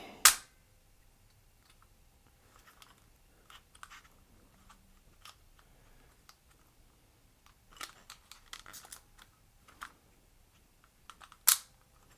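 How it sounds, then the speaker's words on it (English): An Omega Rapid 100 camera's shutter fires with a few faint, sharp clicks spread across a quiet room, the last snap the crispest and closest, amid small handling noises. "this shutter has just a little bit of lag from when I push the button to when it fires"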